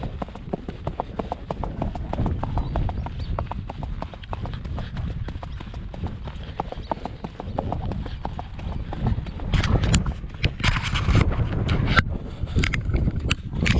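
Hooves of a Baião horse fitted with a new vaquejada saddle clop steadily and close by on firm ground, a continuous rhythmic stepping with some wind buffeting the microphone.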